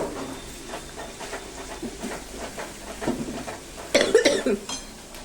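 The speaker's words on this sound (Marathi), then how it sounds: "ठसका झालाय लाल मिरचीचा" Coughing set off by fumes from red chilies frying for Schezwan chutney, a few short coughs in the middle followed by a louder burst of clattering pan and sizzle near the end.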